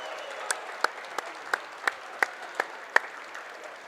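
Crowd applause in a high school gym during a boys' varsity basketball game between Snow Canyon and Dixie High School, with scattered sharp individual claps popping at a steady rhythm over a soft, fairly distant wash of clapping.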